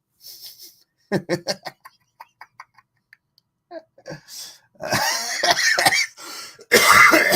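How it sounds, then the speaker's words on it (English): A run of short, sharp coughs from a lingering cough, in quick succession, followed by harsher throat-clearing and heavy coughing bursts, close by. "How do I still have this cough?"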